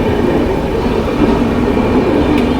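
Passenger train on a long journey, a steady loud rumble of wheels and carriages heard from inside, continuous and unbroken with no talk.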